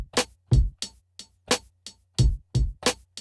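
A Soulfire lo-fi drum kit in Logic plays a short, dry beat: thumping kicks, snappy snares and crisp hits in a steady, loose groove, close and clean with no talk.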